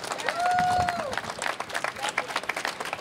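A crowd at an outdoor political rally outside the Justice Department in Washington, DC claps in sustained applause with scattered cheers and a brief whistle, dense and continuous throughout.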